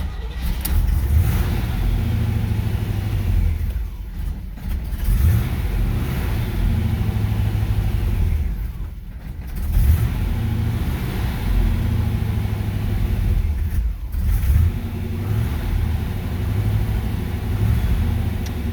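An old car engine with an all-original Rochester MV4 carburetor, suspected of needing a new accelerator pump, runs loud and close, holding a steady roar with periodic revs rising and falling.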